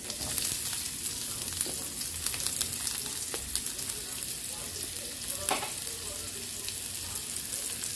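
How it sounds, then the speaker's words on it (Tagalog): Onion and garlic sauté in oil in a pan, a continuous close sizzle with scattered stirring scrapes and clicks over eight seconds, no one talking. "Onion, garlic. Gisa."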